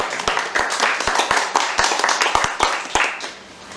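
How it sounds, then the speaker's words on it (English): A small audience at a poetry event applauds a translator of Rohingya poetry into Croatian, a thin round of distinct, fairly close hand claps with a few loud individual claps, tapering off at the end. "I think that's a round of applause"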